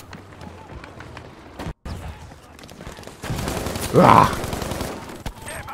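Gunfire in the video game Battlefield V, scattered bursts of shots with a louder flurry near the end, heard under a player's brief exclamation.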